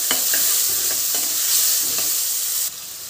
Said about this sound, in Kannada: ಈಗ ಈರುಳ್ಳಿ ಸಣ್ಣದಾಗಿ ಹಚ್ಚಿಟ್ಟಿರೋ ಈರುಳ್ಳಿ ಹಾಕ್ತಾಯಿದ್ದೀನಿ